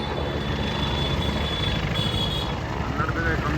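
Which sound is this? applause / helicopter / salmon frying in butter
helicopter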